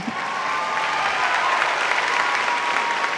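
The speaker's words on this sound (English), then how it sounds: "you can applaud many times in this" Sustained dense applause from a commencement audience, steady and fairly loud throughout with no pauses or voices over it.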